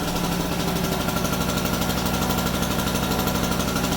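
A Harbor Freight 800-watt portable generator with a two-stroke engine runs steadily at idle. Its close, buzzing, slightly knocking drone holds a constant level throughout, with no talk over it.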